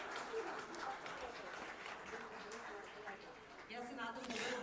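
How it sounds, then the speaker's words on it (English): A conference audience breaks into applause, a dense spread of hand claps across the room that keeps up steadily, with voices mixed in under it. "Pat on the shoulders and a round of applause"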